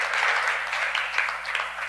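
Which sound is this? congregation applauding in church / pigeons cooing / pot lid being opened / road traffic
congregation applauding in church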